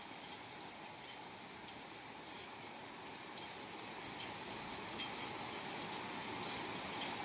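Dense, steady downpour of heavy rain with small hailstones hissing on surfaces, scattered sharper ticks of hail impacts throughout; no talking, rain swelling slightly louder toward the end.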